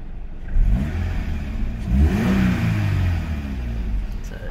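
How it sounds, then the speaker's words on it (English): A 2020 Subaru BRZ Limited's engine idles close by, then swells into one strong rev that peaks and falls back to a steady idle, loud and alone. "I'm gonna give it a rev for you guys before we go, so you guys can hear this beautiful engine."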